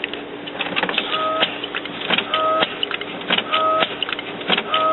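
An HP Officejet Pro 8600 inkjet printer fitted with a continuous ink supply system runs a cleaning cycle, giving repeated mechanical whirs, clicks and carriage clunks in a steady rhythm, fairly close, with no talking.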